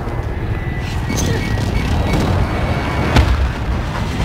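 Air strike in a Call of Duty Plunder match: deep, rumbling artillery-like booms pound steadily, with a sharper blast near the end, loud and close.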